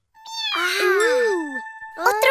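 A kitten meows from a kitten video playing on a tablet, a long, loud, close, tonal mew that rises and falls and then starts again briefly.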